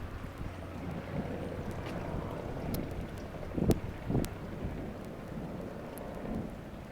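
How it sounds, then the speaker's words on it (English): Distant thunder rumbles through a rain storm, with two deeper low booms in the middle over a constant wash of rain and wind noise, faint and unhurried, with no talking. "That's thunder."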